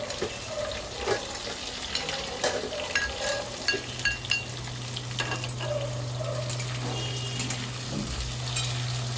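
Sliced green, red and yellow bell peppers frying in a pan for a vegetarian paneer dish, with a steady close sizzle, scattered stirring scrapes and clinks, and a low hum from the kitchen, no talking.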